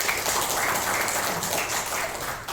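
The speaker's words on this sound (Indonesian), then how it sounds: "tepuk tangan untuk orang Makassar." Audience applause at an Islamic religious talk on the virtues of Hajj and Umrah, a dense, steady wash of many hands clapping that holds for about two and a half seconds at a moderate distance and fairly low level.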